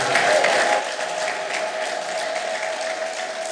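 A church congregation applauds for Jesus, a dense, steady roar of clapping from many hands filling the hall, loud and sustained throughout with a faint background hum.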